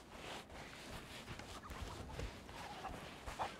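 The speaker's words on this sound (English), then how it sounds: "There's some chickens." Chickens cluck faintly on an island in a pirate video game, a few soft, scattered calls that rise briefly over a low, steady background hiss.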